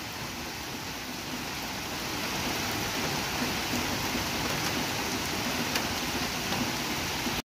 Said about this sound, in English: And we have more rain.